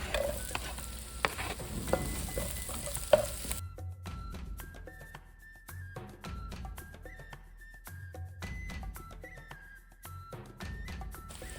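Garlic and then onion frying in a pan, a steady sizzle with repeated scraping and stirring strokes, close and fairly loud, after a brief louder burst at the start.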